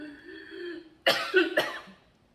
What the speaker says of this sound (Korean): 갑자기 기침이 막 나오네요.